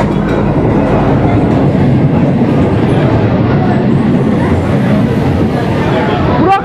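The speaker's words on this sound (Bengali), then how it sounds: "ট্রেন ঢুকছে" A Mecheda–Digha local train rolls into a station with a loud, steady rumble and clattering wheels, a squeal rising near the end, and a crowd murmuring underneath.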